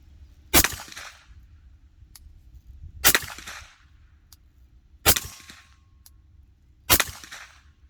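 Four loud, sharp shots from a suppressed SilencerCo Maxim 9 pistol firing 124 grain +P defensive ammunition at a range, each a crisp crack with a short tail, spaced about two seconds apart.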